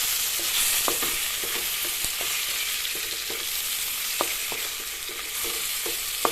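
Fish curry with chili powder fries in a pan with a continuous bright sizzle, while a spoon repeatedly scrapes and taps the metal as it stirs.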